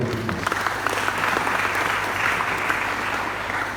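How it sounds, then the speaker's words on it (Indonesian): A seminar audience of students claps in a steady, full round of applause at a campus finance event, many hands blending into a sustained wash. "Tepuk tangan untuk beliau."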